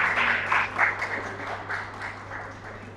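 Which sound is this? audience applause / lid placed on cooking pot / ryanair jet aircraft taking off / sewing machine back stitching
audience applause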